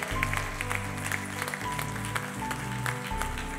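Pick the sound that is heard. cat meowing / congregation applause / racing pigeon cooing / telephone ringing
congregation applause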